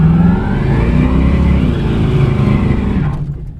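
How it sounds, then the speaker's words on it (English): A 1972 Camaro's engine revs hard under a partial brake stand, a loud sustained roar with rising and falling pitch that cuts off abruptly near the end. "it wasn't a full brake stand"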